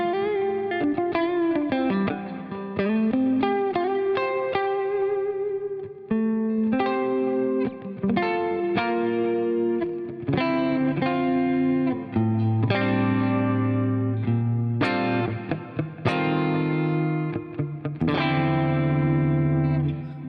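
Electric guitar on its middle pickup position driven through a Bluesbreaker low-gain overdrive, playing a continuous mildly distorted passage of chords and single notes with sustained ringing tones and no talking.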